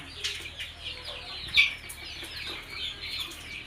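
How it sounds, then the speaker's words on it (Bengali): A flock of about 150 local chickens, 35 days old, clucks on a farm: several overlapping close clucks and short calls, with one louder squawk in the middle. "আপনারা দেখতে পাচ্ছেন আমার এখানে 150 লোকাল মুরগি আছে।"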